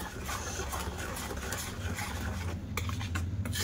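A spoon stirs and scrapes through thick palm pulp mixed with coconut and milk in a pot, giving repeated soft rubbing and scraping strokes, close and fairly quiet.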